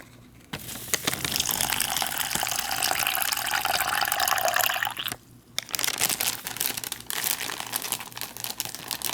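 Water is poured into an MRE drink bag holding coffee creamer and sugar, a steady gushing fill with plastic crinkling, a brief pause, then more crinkling and sloshing handling sounds close by.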